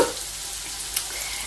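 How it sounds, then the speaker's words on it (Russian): Mushrooms frying in a pan for a meat and potato filling, a steady close crackling sizzle with a few sharper pops and no voices over it. "У нас жарятся грибы. Вот здесь вот. Вон они. Шкварчат."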